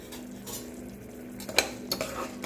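A spoon scrapes and clinks against a pot while bottle gourd curry with tomatoes is stirred, with a soft sizzle underneath and a few sharper metallic taps.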